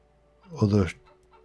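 A single short Plymouth Rock chicken cluck in a video game, fairly close and clear, with a faint steady hum in the background.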